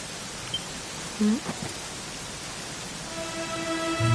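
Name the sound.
rain falling in video game Dragon Quest XI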